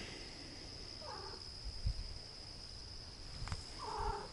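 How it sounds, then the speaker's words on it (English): A litter of six young kittens gives two faint, thin mews a few seconds apart, with soft bumps and a steady background whine. "So there's 6 little kittens right here."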